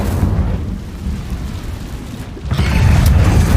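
An Incendio fire spell cast in the Hogwarts Legacy video game, heard as a loud low rumbling whoosh that swells and then surges stronger halfway through, with no talk.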